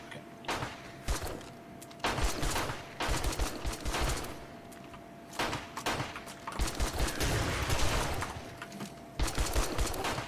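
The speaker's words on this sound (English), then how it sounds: "That's a shotgun." Repeated shotgun fire during a Blood Moon horde night in 7 Days to Die. Loud, close blasts come in irregular bursts with short gaps, over constant background game noise.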